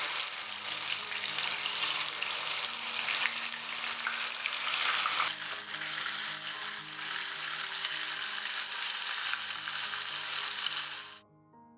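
Marinated mutton chops sizzle steadily in hot oil with sautéing whole spices such as cinnamon pieces, a loud, continuous frying hiss that lasts until it cuts off abruptly near the end.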